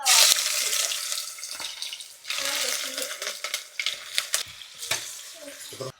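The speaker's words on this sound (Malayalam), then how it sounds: "എണ്ണ ഒഴിച്ച് ഇനി ഇഞ്ചി വറക്കാനിടുക." Ginger dropped into oil for a homestyle Kerala inji curry crackles and spits in uneven bursts, close by, with clinks and handling noises breaking up the frying sound.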